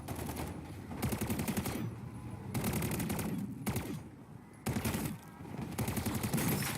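Video game gunfire in Call of Duty MW3 Zombies: several loud bursts of rapid automatic shots separated by brief pauses, each burst a tight rattling string of reports.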